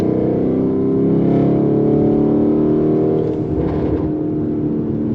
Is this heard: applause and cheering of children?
no